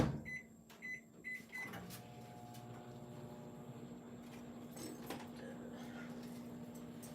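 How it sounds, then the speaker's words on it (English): A microwave oven hums steadily while melting butter for no-bake churro Oreo and salted caramel treats, after a few short beeps and a door closing at the start; the drone runs on evenly and close by. "we're gonna pop this in the microwave and start to melt it"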